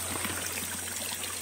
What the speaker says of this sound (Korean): 개울이 흐르고 있고 폭포와 개울이 함께 흐르고 있습니다.